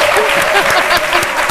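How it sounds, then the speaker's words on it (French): An audience applauds loudly on a midday French television talk show, a full burst of many hands clapping at close range with a few voices mixed into the sound. "On applaudit très fort"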